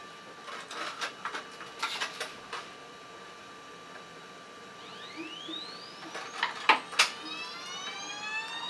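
The feeder motor of an Ultimaker 3D printer loads filament, giving faint ticks and clicks followed by thin, rising electronic whines that sweep upward and repeat in a quiet room.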